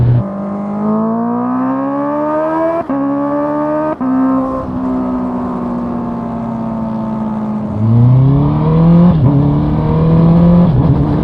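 A Honda CB650R with a full Akrapovic exhaust and the silencer removed revs hard and loud up close, its sustained wail climbing in pitch with brief gear-change dips and a final surge.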